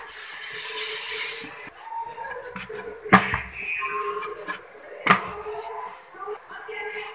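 Wheat chapati dough rolled out on a board at home, close rasping rubs and soft knocks of the rolling pin in short strokes with a couple of sharper taps, no talking.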